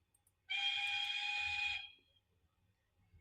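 A model railway steam locomotive sounds a single shrill whistle, about one and a half seconds long, faint and alone, followed by quiet low rumble.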